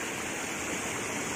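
Water rushes steadily across a broken village road, a dense, loud, unbroken roar like a fast stream, heard up close without any voices.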